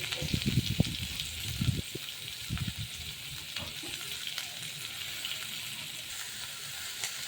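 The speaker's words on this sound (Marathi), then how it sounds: "या कढईमध्ये ना आपण आता दोन कांदे कापून घेतलेले आहेत त्यांना पण चांगलं फ्राय करून घ्यायचे" Two onions sizzle and crackle in hot oil in a wok, with louder stirring bursts at the start that settle into a steady, quieter frying hiss.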